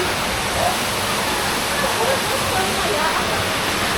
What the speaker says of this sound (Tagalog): Kami dito sa falls.